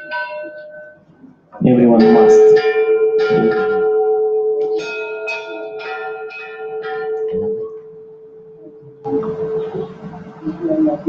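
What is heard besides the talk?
bells being rung by visitors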